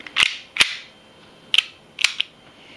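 An airsoft pistol, an HFC Darkhawk gas blowback model, has its slide tapped back onto the frame, giving a few sharp, close metallic clicks in an irregular sequence with short pauses, and no talking.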